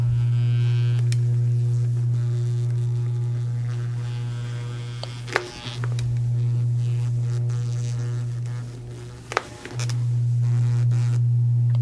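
An electric massager works on tight muscles with a steady low motor hum and buzz, and its pitch dips briefly in two spots as pressure on the body changes.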